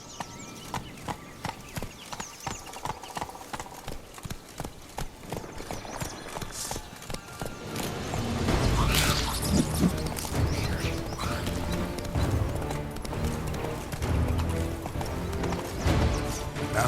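Roach the horse gallops in The Witcher 3 video game, hooves beating in a fast, even clip-clop rhythm that carries on steadily before swelling game music and ambience take over.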